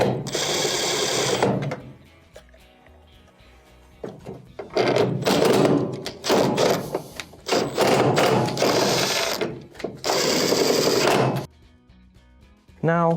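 Screws being driven back into the corners of a dryer cabinet panel with a power driver, several loud whirring bursts of a few seconds each, close up, separated by pauses with handling noise.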